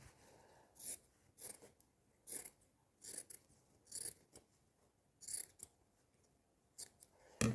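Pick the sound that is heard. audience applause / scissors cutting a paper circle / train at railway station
scissors cutting a paper circle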